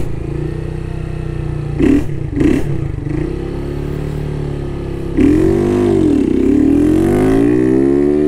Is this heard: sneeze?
no